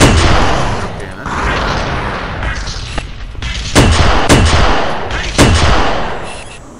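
Loud gunfire and explosive booms from the video game Halo, heavy bursts of shots and a few sharp blasts close up, mixed with in-game voices.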